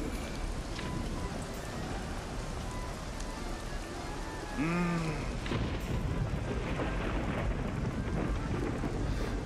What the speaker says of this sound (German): Ich mag ja so ein entferntes Gewitter, wenn man irgendwo drinnen ist.